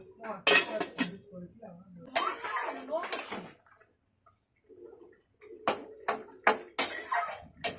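A lid goes onto a cooking pot of labra, a mixed vegetable curry, with several sharp close metallic clanks and clinks separated by short quiet gaps.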